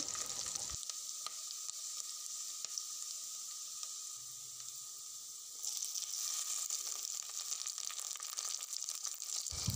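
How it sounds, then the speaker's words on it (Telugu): Curry leaves frying in hot oil in a pan for a potato curry, a steady close sizzle and crackle with occasional stirring scrapes and no talking. "కరివేపాకు కూడా మంచిగా ఫ్రై అయ్యేలాగా అయితే కలుపుకోవాలి."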